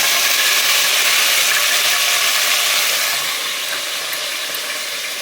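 Fresh chopped fenugreek leaves hit hot tempering oil in a pan, giving a loud, dense, continuous sizzle that gradually eases slightly as the moisture cooks off.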